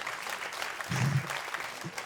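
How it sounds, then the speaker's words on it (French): Audience applause at a stand-up comedy show, a steady wash of clapping from the crowd with a brief swell near the middle, heard alone without talk. "Bravo aux gens de banlieue, on peut les applaudir."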